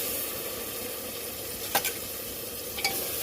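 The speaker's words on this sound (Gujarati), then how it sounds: "બરાબર મિક્સ કરી દેશું।" Red chilli powder, turmeric, coriander powder and garam masala being stirred with a little water in a pan for spicy rice, giving a steady soft sizzle with two brief scraping clatters near the end, no talk.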